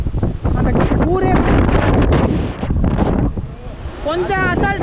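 Strong wind buffeting a microphone on a mountain top, loud gusting roar that surges and dips, with someone talking over it throughout.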